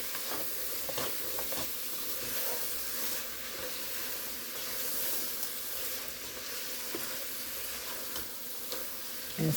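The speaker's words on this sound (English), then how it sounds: "And stir it till it's good and mixtured." Cowboy chili with meat and chili seasoning is stirred in a pot, giving a soft continuous sizzle and hiss with faint scraping, fairly quiet and steady throughout.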